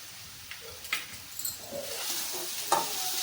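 Egg semiya cooking in a pan with chili powder just added, stirred with a soft sizzle and light scraping strokes, close but fairly quiet, with no talking.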